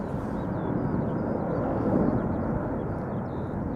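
KLM airliner, a 24-year-old jet departing Schiphol Airport for Venice, heard as a steady, broad engine roar that swells slightly near the middle, with no talk.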